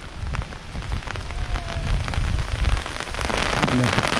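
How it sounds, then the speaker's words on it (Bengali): Heavy rain pours down steadily on a scenic outdoor spot, a dense, close patter of drops drumming on surfaces without a break. "ভীষণ জোরে বৃষ্টি অলরেডি শুরু হয়ে গেছে, ঝমঝম করে শব্দ হচ্ছে"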